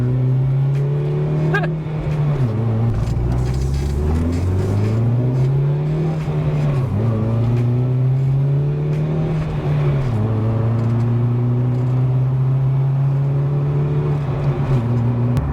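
A modified Vauxhall Corsa sleeper accelerates through repeated gear changes, the loud engine note rising and dropping at each of four shifts in a steady, close-up pulling sequence.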